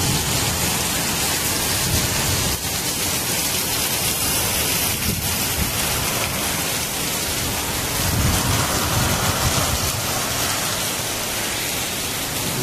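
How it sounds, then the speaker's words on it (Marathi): Heavy unseasonal rain with stormy wind and thunder in Sudhagad, Raigad, a dense, loud, continuous roar of downpour with low rumbles and no talk. "वादळी वाऱ्याचा पाऊस आहे."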